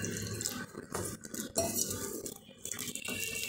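Gram flour batter for mirchi bajji is mixed by hand in a bowl: wet squelching and slapping strokes with occasional clinks against the bowl, close and uneven in rhythm.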